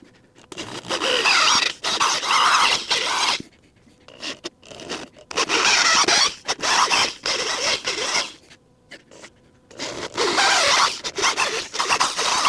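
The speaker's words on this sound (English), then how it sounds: "All right, guys, I got the holes drilled out." A power drill bores bolt holes for mounting a heavy piece on a homestead, whining in repeated bursts of a few seconds with short pauses between them, close and loud.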